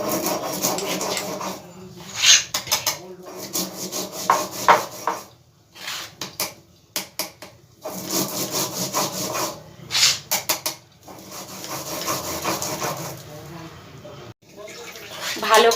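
Sesame seeds with mustard and salt are ground together into a paste, producing rhythmic gritty rubbing and scraping strokes close by, in uneven bursts with short pauses, and a voice talks at times.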